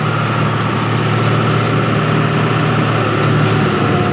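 A snow blower clearing deep snow, about 20 inches, runs as a loud, steady engine drone with a constant low hum, close by and unbroken.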